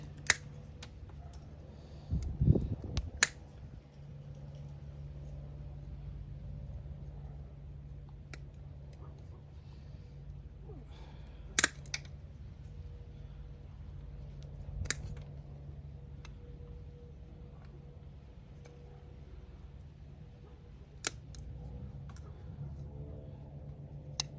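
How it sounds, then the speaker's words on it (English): Wire cutters snip through plastic on a Jeep Wrangler JK windshield wiper assembly, giving a few sharp, sparse clicks and snaps spread across a quiet, low background hum. "It's gonna be some wire cutters. Just cutting the plastic off."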